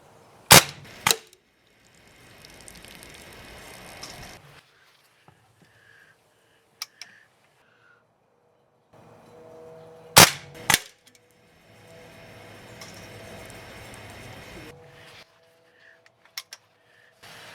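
A 1960s Benjamin Franklin Hot Shot BB gun firing, sharp close cracks in pairs, each followed by a short stretch of rustling and mechanical handling between shots.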